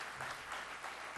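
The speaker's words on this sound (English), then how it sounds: "Nice round of applause for the two Jeffs" Brief, steady audience clapping at a Les Paul tribute event at Full Sail University, a uniform hiss of many hands heard from a distance, quiet and unbroken.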